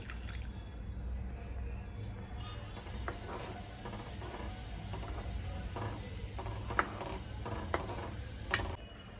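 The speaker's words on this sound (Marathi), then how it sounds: "आता हे हलवीत राहायचे घोटोळ्या होऊ नये म्हणून" Gram flour batter for pithla is stirred in a pan, soft scraping over a low sizzling hiss, with a few clinks of the utensil against the metal.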